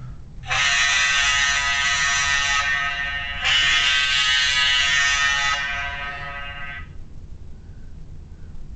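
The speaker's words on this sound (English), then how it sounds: "So all I gotta do is just touch and start, and that'll give me the buzzer I want at the end." An electronic countdown timer on a table hockey scoreboard sounds its end buzzer, a harsh, loud, steady drone heard twice in quick succession with a brief dip between, alone and close.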